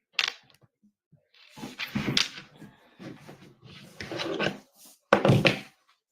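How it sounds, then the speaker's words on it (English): Firecrackers popping outdoors: a few sharp, fairly loud bangs and thumps at irregular intervals, with quieter rumbling in between. "They starting to pop these firecrackers."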